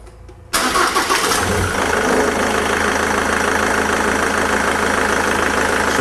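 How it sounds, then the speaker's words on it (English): A car engine starts abruptly with a short crank, then settles into a loud, steady idle close to the microphone. The car is being checked with an air mass meter test. No voices are heard. "start the car."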